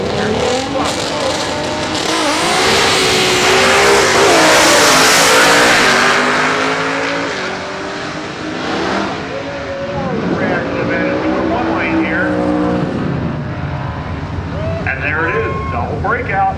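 Drag racing cars launch down the Woodburn Dragstrip at a fall classic eliminations round, loud roaring engines sweeping through rising and falling revs as they pass, with an announcer talking over the noise.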